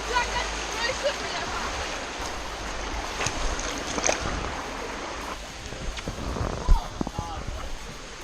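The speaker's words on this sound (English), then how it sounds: "There's a waterfall that way." Water from a stream and waterfall rushes steadily in the background, a broadband outdoor wash with a few splashes and knocks, and people talk intermittently over it.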